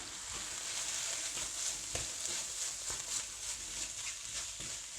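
Lean beef mince cooking with spices and onions in a hot pan gives a steady, close hiss of frying with a few faint stirring scrapes, and no one speaks.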